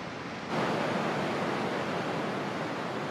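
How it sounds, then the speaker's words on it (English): Spray from Angel Falls, the tall waterfall, comes down like rain as a steady broadband hiss that swells suddenly about half a second in and then holds, dense and close. "Water that gushes from such an elevation turns into small droplets and falls like rain."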